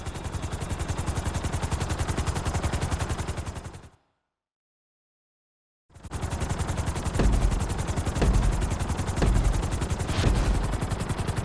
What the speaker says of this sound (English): we're going to put you in a helicopter for this lesson